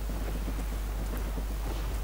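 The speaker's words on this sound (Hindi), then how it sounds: "काफ़ी तेज़ हवा चल रही है लगता है" Strong sea wind rushing over an open ocean in Assassin's Creed Rogue, a steady, loud, low roar with gusty buffeting and no voices.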